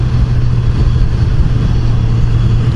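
A 2014 Kawasaki Z1000 Special Edition motorcycle in third gear on a test ride hums steadily at a constant low pitch, loud and close, blended with heavy wind rush and no speech.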